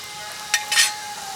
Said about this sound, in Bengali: এবার আমি ফোড়নের জন্য দিয়ে দেব একটুখানি গোটা জিরে আর গোটা ধনে